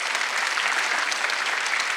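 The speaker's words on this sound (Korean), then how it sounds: "박수 한번 쳐봐요" A church congregation at a Sunday worship service clapping together, dense and even applause filling the room at a steady level for a couple of seconds.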